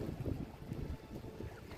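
Steady wind rushing and buffeting by the sea in Antalya, Turkey, a low rumbling roar with gusty pulses throughout.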